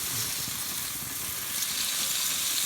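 Steaks sear on hickory planks in a steady, close sizzle and hiss that runs unbroken, with faint crackles beneath and no talking.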